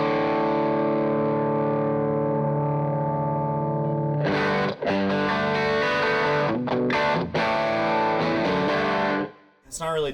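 Sustained electric guitar chords run through a Chroma Console doubler effect, a thick layered tone ringing out loud, then re-struck with brief gaps and a final cutoff.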